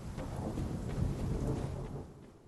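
Thunderstorm in the Fishing Hamlet of a video game: a steady, loud rolling rumble of thunder over the hiss of rain, swelling in the middle and easing off at the end, with no voices.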